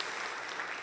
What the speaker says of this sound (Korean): 우리 그래도 수고한 모든 분들을 위해서 응원의 박수 한번 하면 좋을 것 같아요.